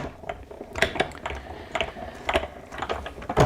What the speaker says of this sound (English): then we will put it through our die cutting machine to cut it out